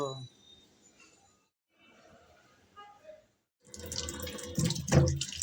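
Belt fish being washed in water: quiet dripping at first, then a louder burst of running tap water and splashing as the fish is rinsed in a sink.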